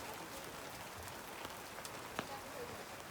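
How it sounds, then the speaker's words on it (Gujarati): Rain patters steadily on surfaces outdoors, soft and even, with a few sharper drips and knocks standing out from the constant wash. "વરસાદ ચાલુ થઈ ગયો"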